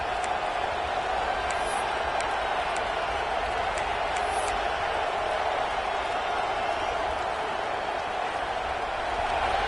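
Stadium crowd roaring in the College Football 25 video game, a dense continuous wash of distant voices with a few sharper whistles and shouts, steady and loud without a break.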